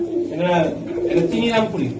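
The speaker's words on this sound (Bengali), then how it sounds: "এই এই কবুতরটা আমি একটু দেখাই" Pakistani pigeons coo in low, rolling calls close by, mixed with someone talking over them.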